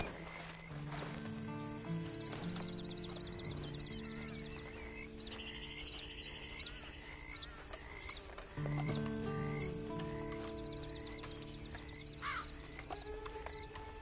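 Horse hooves clip-clop in an even walking rhythm in Red Dead Redemption, with snorting and ambient music tones in the background, game-like and moderately quiet.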